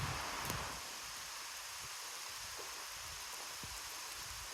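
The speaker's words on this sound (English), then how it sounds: "But that is a downpour, ladies and gentlemen" Heavy rain pours down outdoors on a hiking trail near Tobermory, a steady soft hiss of drops on leaves and ground with occasional close rustles, fairly faint.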